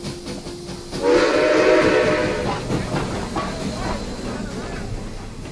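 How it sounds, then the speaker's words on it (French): A TGV running between Lausanne and Paris crosses a two-track stone railway viaduct, its roar swelling suddenly and then holding as a steady rumble with high whining tones on top, loud and heard without speech. "Chaque jour, les TGV Lausanne-Paris franchissent le viaduc."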